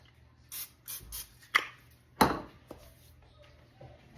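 Pam cooking spray is spritzed onto a pan to grease it in a couple of quick hissing bursts. Soft clicks and handling noises come before them in a quiet kitchen.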